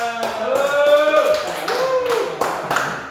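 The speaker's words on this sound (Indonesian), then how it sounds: "Tepuk tangan" Students in a floor-gymnastics headstand class clap for the winning group, scattered claps mixing with loud voices and calls in the room.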